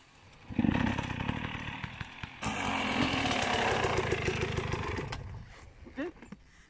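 A Yamaha YZ 65 two-stroke dirt bike engine revs hard and close, a buzzy drone that rises and holds through the middle, then cuts back to a brief short blip near the end.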